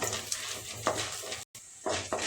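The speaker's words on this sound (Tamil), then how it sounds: "பூண்டு பருப்பு இதெல்லாம் கொஞ்சம் வறுப்பிட்டு வர லேட்டாகும் அதனால் இதெல்லாம் முதல் சேர்த்து வறுத்து விட்டுக்கலாம்" Chana dal and garlic roasting in a pan make a soft, steady sizzle with faint stirring scrapes, close and quiet, with no voices.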